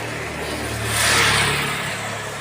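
Motorcycle engine revving on a road in Malabanes, Abakan, a steady mid-pitched drone that swells to a louder rev near the middle and then eases back, heard alone without talk.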